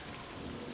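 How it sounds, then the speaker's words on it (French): Steady rain in the video game Oblivion, a dense, even hiss of falling drops filling the whole moment without pause or voices. "vous avez en plus le bruit de la pluie"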